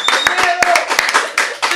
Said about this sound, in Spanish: Y ahora sí, palmas